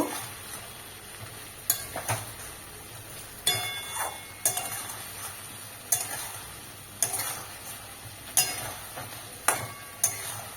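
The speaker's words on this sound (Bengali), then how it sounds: "এটা আমি এবার খুব ভালো করে কষে নেব।" A spice mixture with turmeric fries in oil for a soybean and cauliflower curry, a quiet steady sizzle broken by regular sharp clicks and scrapes of a spoon stirring against the pan.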